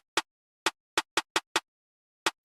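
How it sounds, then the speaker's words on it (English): A perc snare from a hip-hop beat plays alone, seven crisp, dry hits in an uneven bouncy rhythm, fairly quiet and close with silence between strikes. "so I added a perk snare."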